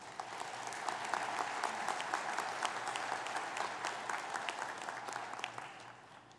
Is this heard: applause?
yes